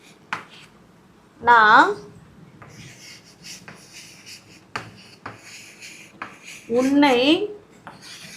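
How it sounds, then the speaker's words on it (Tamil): Writing a sentence on a board gives short, scratchy strokes and taps between stretches of a teacher's speech. "நான் ஒரு சென்டென்ஸ் எழுதுகிறேன் பாருங்கள்."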